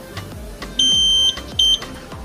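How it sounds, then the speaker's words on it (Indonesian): A Securicle smart keyless alarm fitted to a 2014 Honda Scoopy FI scooter gives two sharp, high electronic beeps in quick succession, each lasting about half a second, over quiet background hum. "Nah, kalau 2 kali bip itu si fungsi alarmnya dia akan mati ya."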